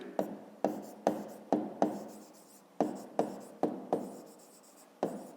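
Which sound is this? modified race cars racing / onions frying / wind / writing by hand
writing by hand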